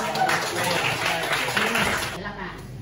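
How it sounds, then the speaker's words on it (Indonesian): Clapping from students in an economics class, a dense brief burst of hand claps filling the room, fading out near the end with voices mixed in. "Tepuk tangan."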